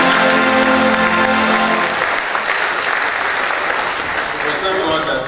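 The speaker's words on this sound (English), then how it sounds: "I think we all deserve some level of round of applause to celebrate." Crowd applause at a university ceremony with a Vice Chancellor's procession, a dense, loud, continuous clapping that persists throughout, with a sustained musical tone beneath it at first.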